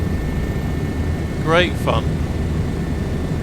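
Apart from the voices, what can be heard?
Bo 105 helicopter flying in video game Microsoft Flight Simulator 2024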